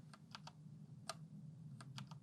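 Keys pressed on an Ajazz K620T 60% mechanical keyboard give sharp, scattered clicks, about seven in two seconds, with uneven spacing over a steady low hum.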